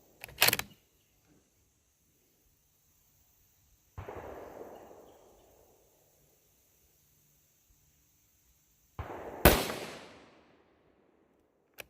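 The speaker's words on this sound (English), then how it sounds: "my first 2 rounds are going to be at the bottom paster" Three sharp rifle shots at a 1000-yard range, each a loud crack followed by a fading rolling echo, spaced several seconds apart with quiet between them.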